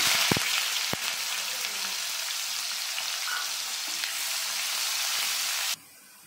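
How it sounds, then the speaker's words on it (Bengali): Chopped onions fry in a pan with a dried red chilli and whole garam masala, a steady, dense sizzle that runs unbroken for several seconds before cutting off abruptly. "তো আমার পেঁয়াজটা ভাজা হয়ে গেছে"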